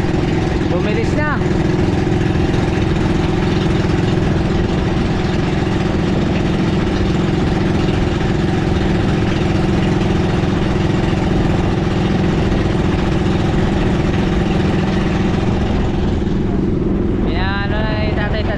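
A large wooden motorboat's engine drones loud and steady throughout, a continuous low rumble, with brief voices talking over it near the start and the end.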